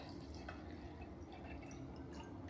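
Brewed medium roast coffee pours into a cup with a steady, close liquid trickle and dripping that runs alone for a few seconds.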